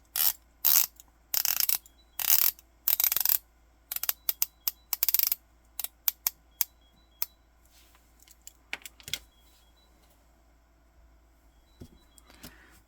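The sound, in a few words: 120-click unidirectional watch bezel being rotated counterclockwise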